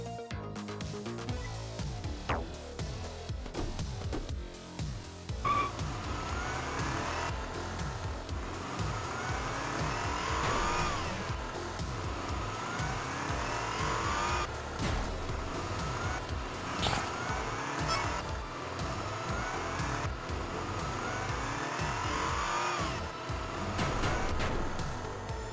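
A car driven in the game Shakedown Hawaii, its engine droning steadily with rising and falling revs over a long stretch, accompanied by game music and occasional effects.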